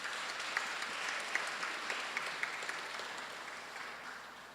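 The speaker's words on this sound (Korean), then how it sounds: "박수 부탁드리겠습니다." At a 2017 World Peace Day ceremony, the audience gives fairly quiet, steady applause that is heard alone and fades gently toward the end. A few sharper claps stand out along the way.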